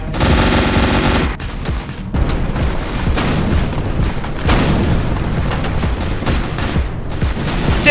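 Rapid gunfire and booming blasts from the video game Project SCP, loud and nearly continuous, with a brief lull early on before the shooting resumes dense and chaotic, with no talking over it.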